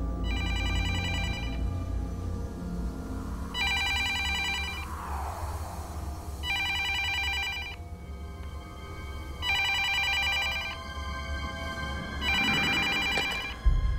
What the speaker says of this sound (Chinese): 旁边的李兆先先生接下电话